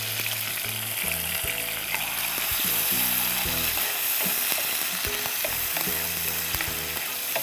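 Cinnamon pieces, bay leaf and cardamom fry in hot oil for ilish pulao, giving a strong steady close sizzle with scraping stirring and utensil knocks scattered through, no voices.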